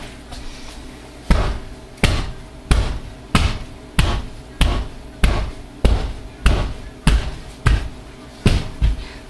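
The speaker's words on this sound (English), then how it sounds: "Let me give this a bang around." Cold process soap mould being banged on a surface to knock out air bubbles, about a dozen sharp thuds in a steady rhythm, each close and loud with a short ringing tail, no talk.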